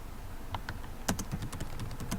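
Keys clatter on a computer keyboard in a run of quick, uneven clicks, fairly close and moderately loud, with a steady hum underneath and no talking.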